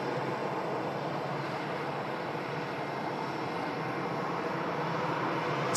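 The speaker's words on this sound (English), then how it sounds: "Coming in from Toronto, the Air Transat. Airbus A330," An Air Transat Airbus A330-200 arriving at Manchester Airport from Toronto: a steady, broad jet roar from some distance that holds at an even level throughout, with no voices.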